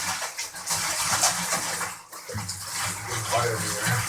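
Water splashes and sloshes steadily while a latex trisuit is washed by hand in a tub, with running water in the background and brief bits of a voice.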